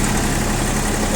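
A Japanese mini tractor engine idles steadily at close range after starting, a dense continuous rumble with no voices.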